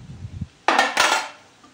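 Bitter gourd curry with jaggery being stirred in a metal pan, two or three sharp close scrapes and clinks of a spoon after a soft rustle, with no voice.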